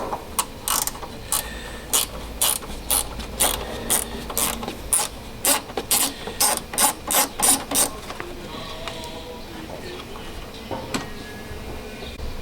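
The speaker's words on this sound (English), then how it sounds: "You'll need a pretty long extension with a Torx bit on it to get this one out over here on the passenger side" A ratchet with a long extension and Torx bit clicks rapidly while loosening a bumper bolt on the passenger side of a VW T5 front end, in loud bursts of ratcheting, then fainter metallic handling of parts.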